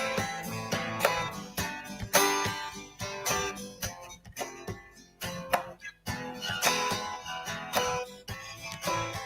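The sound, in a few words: guitar playing chords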